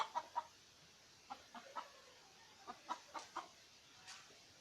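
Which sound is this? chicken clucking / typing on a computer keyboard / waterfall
chicken clucking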